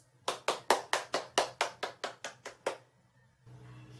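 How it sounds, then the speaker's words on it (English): A single person claps a quick, evenly spaced run of about ten crisp, close claps, then stops, leaving a faint low hum behind. "Give yourself a round of applause."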